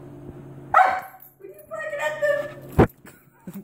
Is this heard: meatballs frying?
no